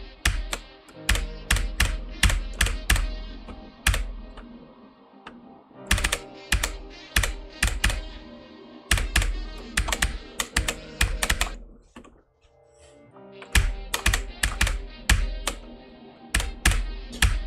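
Fast, continuous typing on a pricey mechanical computer keyboard, dense sharp clacks in rapid bursts, loud and close, with a brief pause near the end before the keystrokes resume, no talking.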